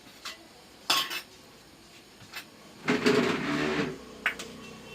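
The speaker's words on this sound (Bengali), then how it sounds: "ওই যে আমার বোন এখন ডিম ফাটাচ্ছে" Eggs are cracked and cookware is handled in a home kitchen while eggs are fried, with close, sharp clinks of utensils and a longer clattering rattle of metal pans between quiet gaps.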